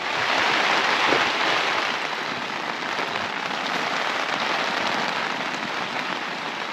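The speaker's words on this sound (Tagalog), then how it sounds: "Lakas ng ulan." Heavy rain pounds steadily on a tent at a moto camping site on a mountain peak, a dense, loud, continuous hiss with no voices.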